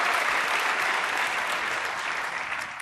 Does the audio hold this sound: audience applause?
yes